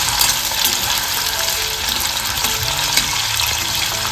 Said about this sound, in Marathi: आता आपल्याला बटाटे सुद्धा फ्राय करून घ्यायचे आहेत